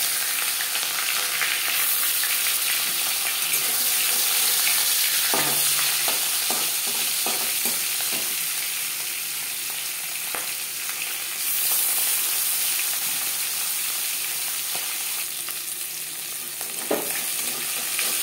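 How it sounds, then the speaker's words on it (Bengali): Marinated rohu fish frying in hot mustard oil in a pan, a loud continuous sizzle with occasional clinks and spatters, no voices. "মাছ আমি হালকা করেই ভেজে নিলাম"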